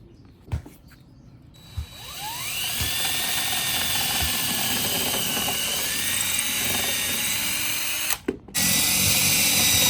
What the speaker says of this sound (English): we're going to pre-drill so we don't split the wood